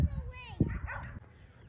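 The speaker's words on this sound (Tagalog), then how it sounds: "Lalaki ng mga aso." Big dogs give short barks and yips close by amid an outdoor family gathering, with a person speaking over them.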